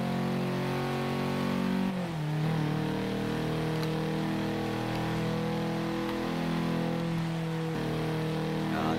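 Renault car engine in a driving game on the Top Gear test track, a steady mid-pitched drone with revs climbing and dropping at gear changes, fairly loud and continuous with no talk.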